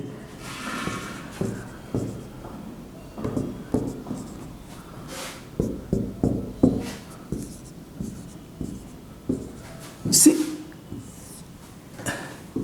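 Chalk or marker scratching across a board during a Hindi-medium Class 12 maths lesson on matrices, in short repeated strokes with brief pauses, close and fairly clear, with no speech over it.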